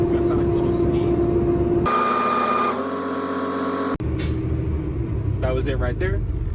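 A truck's air brake governor cutting out at about 125 PSI while the engine is revved between 1,000 and 1,500 RPM: a steady engine drone, then one brief sneeze-like puff of air, followed by a short hiss as the engine keeps running.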